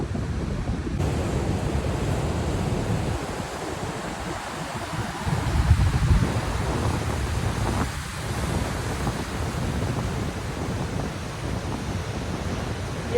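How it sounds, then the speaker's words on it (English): Storm surf pounding the flooded shore at Rye, New Hampshire, a continuous loud roar of breaking ocean waves mixed with heavy wind buffeting the microphone. "the waves are catching up to us"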